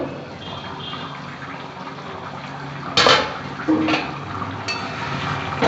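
A lid is set onto a cooking pot of spicy okra curry, giving a sharp metallic clink followed by a couple of lighter knocks. Each lands over a steady background hiss.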